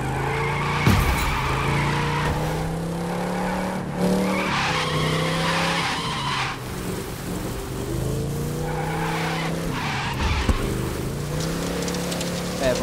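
A Dodge Charger R/T roars in The Crew 2, a video game: a steady, throaty engine note rises and falls under hard throttle, with tires squealing and skidding throughout.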